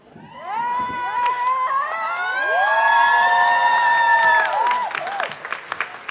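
A live comedy show audience cheers and whoops in a swelling chorus of voices, holding loud for several seconds before breaking into scattered claps and fading shouts.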